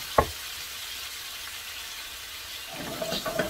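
Branzino fish simmering in a pan of lemon butter, a soft, steady sizzle close by, with a sharp clank near the start and brighter crackling spatter toward the end.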